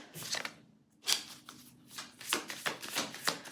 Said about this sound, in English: Group one, let's continue shuffling.